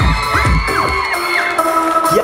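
A large crowd at the Money Expo carnival in Chiang Mai, Thailand, cheers and whoops, with scattered shouts over a loud, steady roar and bright music-like tones running through it.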